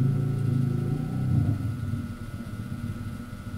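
A motorcycle engine drones past nearby with a steady mid-pitched rumble that swells briefly, then fades slightly as it moves on, heard alone without voices.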